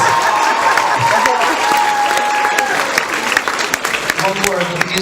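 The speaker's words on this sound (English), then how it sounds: "Please give them a nice round of applause." Studio audience applause on a couples game show, a steady dense wash of clapping that holds for several seconds and begins to thin and break up toward the end.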